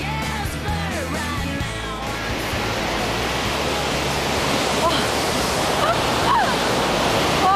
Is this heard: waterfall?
yes